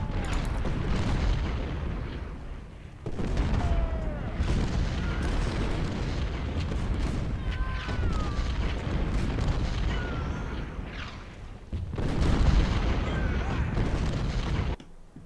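Cannon and artillery fire in Ultimate General: Civil War, the Confederate campaign at Mansfield, rumbling as dense overlapping booms over a continuous battle roar, with brief quieter gaps and a heavier burst near the end.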